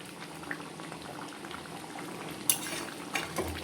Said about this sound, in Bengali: আমি একটু জল দিয়ে দিলাম আর একটু ফুটবে